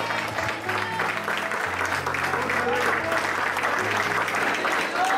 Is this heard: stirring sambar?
no